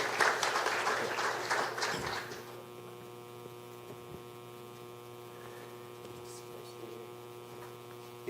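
Audience applause welcoming a speaker: a brief burst of clapping that fades out after about two seconds, leaving a steady electrical hum from the hall's sound system.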